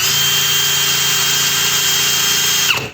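A DEVETECH CIS 120 cordless hammer drill/driver whirs at steady speed with an empty chuck, loud and close, a constant motor whine that winds down abruptly near the end.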